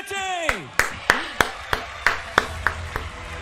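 Clapping at the Globe Soccer Awards ceremony comes as a run of about ten crisp, evenly spaced claps, heard close and distinct, with a falling whistle-like tone at the start.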